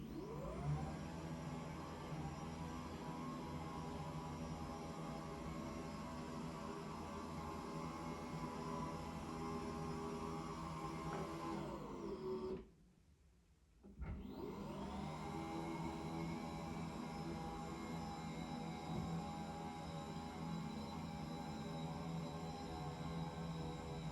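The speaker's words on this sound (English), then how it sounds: "And now here's an example of the desk going up and down." The motor of a Maidesite T2 Pro standing desk whirs steadily as the desk rises, stops briefly, then whirs again as it moves back, a smooth continuous hum heard close and alone.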